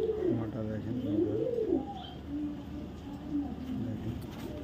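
Pigeons coo in a steady run of low, rounded, warbling calls, close by and fairly loud, with a female racing pigeon of a BRPFC club among them and no talk over them.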